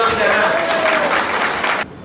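Crowd applause at a local political gathering about a union chairman, a dense, loud burst of many hands clapping that continues steadily, with a voice mixed in, then cuts off abruptly near the end.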